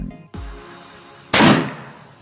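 A PCP air gun charged to about 220 bar fires a single sharp, loud shot that stands alone after a quieter lead-in.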